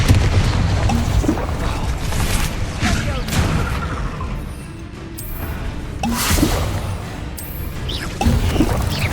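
Spell blasts and explosive booms burst through a busy magic duel in Hogwarts Legacy, repeated crashes and bangs landing every second or two over a constant rumbling backdrop, with battle shouts mixed in.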